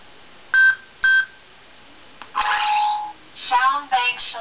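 Menu sounds on a custom lightsaber prop: two short electronic beeps, then a brief click and a longer, richer tonal chime followed by a few quick bright tones, all clean and close with nothing else behind them.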